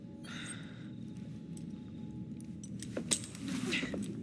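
Keys jangle as they are handed over in the Assassin's Creed Syndicate video game: a brief, fairly quiet metallic rattle near the end, over a low steady background hum.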